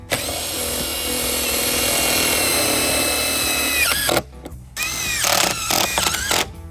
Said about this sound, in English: The next step is to put the rest of the screws in the hinges.